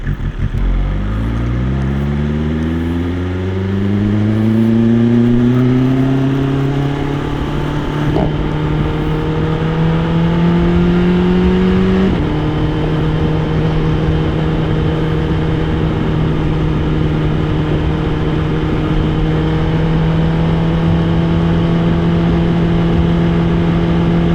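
A BMW S1000RR superbike revs up hard through the gears while being ridden, with rising engine pitch, sharp upshifts, then a loud, steady high-revving drone and wind rush. The sound is close and continuous, with no voices.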